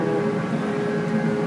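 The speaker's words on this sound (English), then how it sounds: "There's the nice propeller wash." Steady low churning rumble of a ship's propeller wash with a continuous engine drone, loud and unbroken, no voices.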